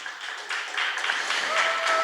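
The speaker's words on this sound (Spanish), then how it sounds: "Démosle un aplauso al Señor" A church congregation claps, the applause swelling gradually from fairly soft to fuller, with a voice faintly audible over it near the end.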